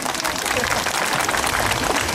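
An audience at a public address claps in a thick, continuous wash of sound that stays loud and even from start to finish.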